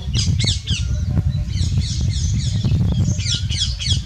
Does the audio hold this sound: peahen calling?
yes